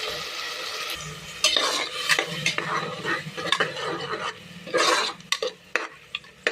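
Masala fries in oil as a spoon stirs and scrapes it around the pan, giving irregular clattering strokes over a soft, close sizzle.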